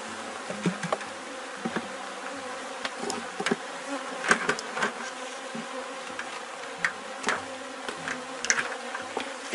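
Honey bees swarming around an open hive during a colony split, a dense steady buzz close by with individual bees zipping past, no voices.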